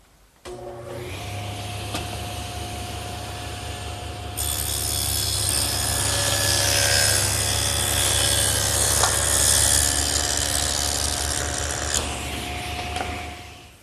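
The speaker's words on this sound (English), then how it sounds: "take our legs and run a groove between the two mortises so that it'll accept our panels" A table saw fitted with a dado head cuts a groove between mortises in wooden chest legs, the motor spinning up with a tonal hum before a long, loud, rasping cut through the wood, then winding down.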